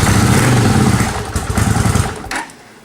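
A 1981 Honda CX500 motorcycle engine catches with a little choke and runs, a loud close rough idle with a burbling exhaust that fades and stutters near the end.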